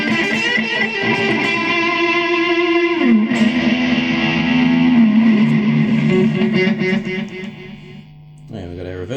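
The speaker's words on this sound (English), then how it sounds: "And a standard digital delay." Electric guitar runs through a Line 6 Floor Pod standard digital delay, holding loud ringing notes with trailing repeats. A pitch drop comes about a third of the way in, then the sound dips briefly before a fresh attack at the end.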